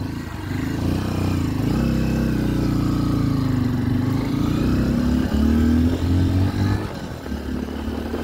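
A new 12 horsepower motorcycle engine runs steadily after a choke start, a loud, close low thrum with slight shifts in pitch as the revs rise and settle.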